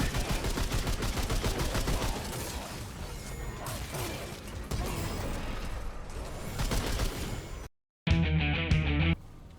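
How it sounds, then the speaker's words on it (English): Rapid automatic gunfire from a machine gun pistol in the video game Remnant 2, a dense loud stream of shots running for several seconds, cut by a brief silence before a final burst. "especially with the machine gun pistol"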